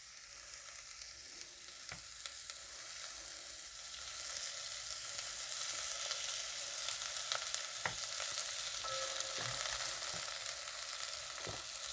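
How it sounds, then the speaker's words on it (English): Onions fry gently in oil for chicken biryani, a soft, even sizzle with a few scattered ticks and crackles, faint and fairly distant. "wait for the onions to cook a little bit."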